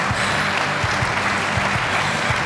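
Steady applause from an audience at the German Environmental Prize award ceremony, dense and continuous throughout, with a low tonal hum beneath and no talking.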